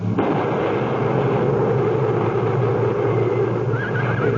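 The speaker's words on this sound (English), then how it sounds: "Ready. Aim. Fire." A volley of rifle gunfire from a line of soldiers firing on command, staged as a sound effect in an old-time radio drama: a loud, sustained crackling roar with heavy low rumble that carries through the whole stretch.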